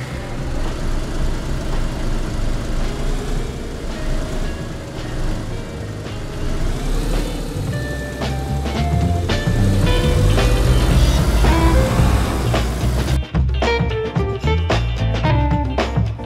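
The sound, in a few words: car engine driving in the video game DayZ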